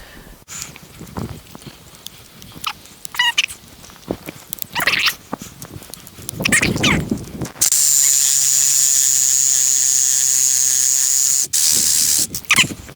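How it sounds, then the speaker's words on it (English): A reciprocating saw cuts through a fig tree branch in a steady, loud, high-pitched buzz lasting several seconds, with a short break near the end before it resumes. Scattered rustling and handling noises come before it. "That's all the reciprocating saw work."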